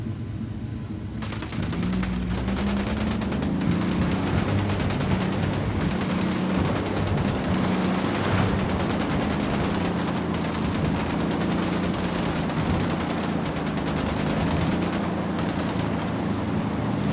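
Sustained automatic gunfire roars in the Ghost Recon Wildlands video game, a dense continuous fusillade of rapid shots with rumbling low engine-like noise beneath, loud and unbroken for most of the stretch.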